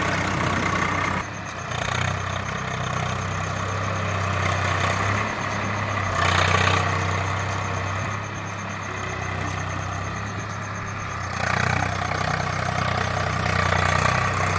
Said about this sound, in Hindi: यहाँ पर हल चलाने के लिए ये फिर दूसरी जगह पहुँचा है ट्रैक्टर।